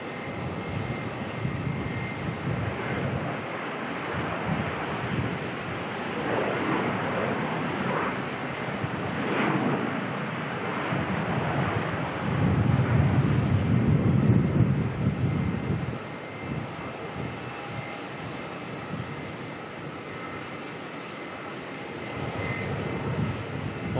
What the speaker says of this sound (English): Touchdown in the background there from the Velocity